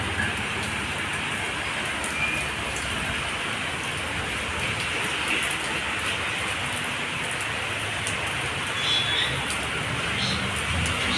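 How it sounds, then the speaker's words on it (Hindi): Heavy rain pours steadily outside during a flood, with gusty wind, a dense continuous hiss at moderate level throughout with no talk. "इतना ज़्यादा बारिश आ रहा है,"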